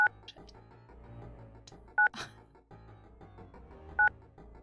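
Phone dialing tones in a video game, three evenly spaced beeps about two seconds apart, sharp and loud over quiet background game sounds, no talk.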